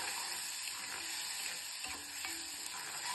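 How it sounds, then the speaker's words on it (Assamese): Tomato paste with coriander, cumin and turmeric powders frying in oil over a medium gas flame, a steady soft sizzle with a few stirring scrapes, no talking. "গেছৰ ফ্লেমটো মিডিয়াম কৰি এতিয়া মছলাখিনিৰ পৰা তেল বেঙি অহালৈকে এইখিনি ফ্ৰাই কৰি ল'ম"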